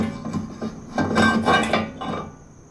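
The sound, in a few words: brake rotor placed on wheel hub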